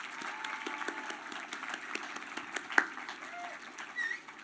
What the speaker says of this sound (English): with a hand clap of praise as well?